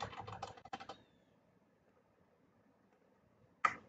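Quick keystrokes on a computer keyboard rattle close by in a short burst, then quiet follows until a single brief click cluster near the end.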